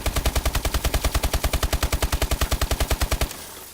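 A rapid burst of about thirty evenly spaced shots from the ASM1 gun in a video game at a firing range, loud and steady in rhythm before stopping abruptly and leaving a short fading tail.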